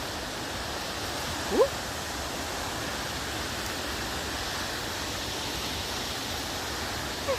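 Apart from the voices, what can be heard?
sound of water at a waterfall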